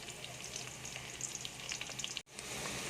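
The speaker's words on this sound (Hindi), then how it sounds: "प्याज़ों को 3 से 4 मिनट के लिए हम भूनेंगे।" Chopped onions fry steadily in an oil-filled pan while being browned for a curry base, giving a dense, even sizzle close up. One brief silent gap comes near the end before the sizzling resumes.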